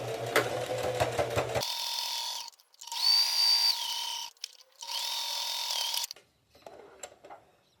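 A domestic sewing machine stitches a pocket seam near the edge, running in short bursts of whirring motor with a pause where it reverses to backstitch at the start, close and clear without talk.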